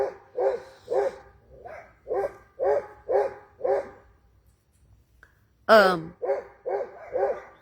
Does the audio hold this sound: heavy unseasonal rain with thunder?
no